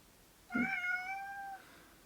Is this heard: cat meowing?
yes